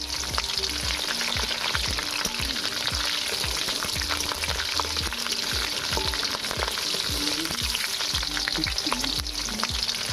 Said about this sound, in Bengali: পেঁয়াজের সাথে ভালো করে ভাজা মতন একটু করে নেবো।